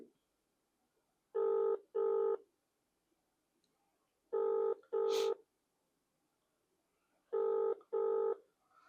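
An outgoing telephone call rings back in three pairs of clean double tones, each pair about three seconds apart, with silence between and no talk.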